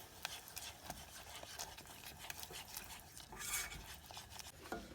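Rice flour being stirred into boiling jaggery syrup in a pot, with a spoon scraping and tapping against the metal in an irregular rhythm over a low bubbling hiss, close and fairly quiet.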